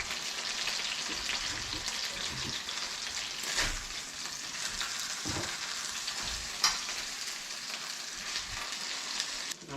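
Fish frying in oil in a pan for a Polish paprykarz fish pâté, giving a steady, dense sizzle throughout with a few brief scraping or stirring knocks, close and continuous with no talk.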